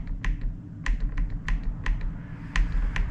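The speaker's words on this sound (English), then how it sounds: "I'm changing the number by clicking the left turn signal, and then I go to the next number by clicking the right turn signal" Sharp plastic clicks from a Harley-Davidson motorcycle's turn signal switch pressed to enter an alarm code, about a dozen crisp, close clicks in an uneven rhythm over a low background hum.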